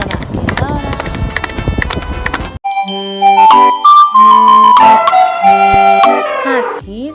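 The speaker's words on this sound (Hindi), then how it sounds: "दौड़ा दौड़ा दौड़ा घोड़ा दुम दबा के दौड़ा।" Clip-clop hoofbeats of a galloping horse in a children's Hindi nursery rhyme, rhythmic and close over a busy musical backing, followed by bright melodic tones.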